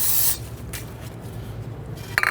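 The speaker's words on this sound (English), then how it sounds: "take a little bit of spray solvent and give that rubber a quick squirt here" A short burst of spray solvent squirted onto the rubber of a strut and spring assembly on a 2012-2019 Fiat 500, a brief airy hiss that cuts off quickly and leaves faint handling clicks near the end.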